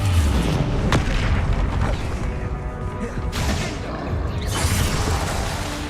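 Confringo fire blast spells burst in Hogwarts Legacy, several loud booming crashes hitting at uneven intervals over a dense, continuous rumble of combat.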